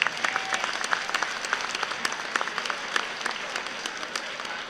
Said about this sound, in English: a round of applause for Mr. David Langley.